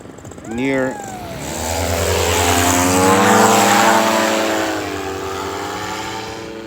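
A propeller airplane passes overhead near Narita Airport on the Chiba coast, rising into a loud, sustained drone that swells and then slowly fades, with a brief voice at the start.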